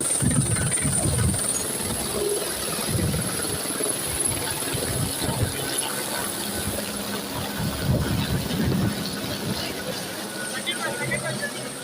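A tourist joyride helicopter at the Kondaveedu Fest near Kondaveedu fort drones with a loud, continuous rotor and engine roar throughout, while voices talk over it.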